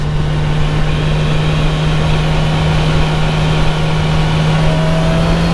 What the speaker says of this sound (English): we're going to take a little Sunday drive